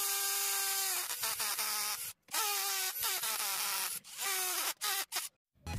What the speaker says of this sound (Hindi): यहाँ पर हम होल कर देंगे ड्रिल की हेल्प से।